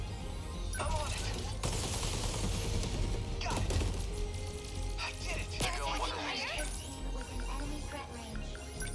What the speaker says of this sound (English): Now we got multi-rocket launchers.